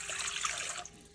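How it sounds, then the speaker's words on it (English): Water poured into a stand mixer bowl for homemade pizza dough, a steady close splashing stream for most of a second before it cuts off, alone without talk. "So put the water in the mixer bowl,"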